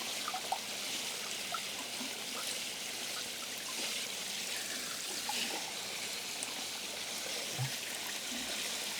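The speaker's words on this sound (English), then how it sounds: "Just hanging out by the waterfall now." Steady rushing of a waterfall, a continuous broadband wash that stays even throughout with no talking over it.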